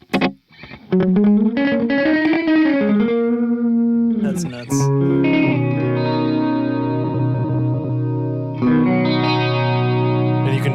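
An electric guitar plays sustained notes and short phrases through a pedal's slapback delay, each note trailed by a quick single echo, with the tone shifting partway through and a brief spoken remark near the middle.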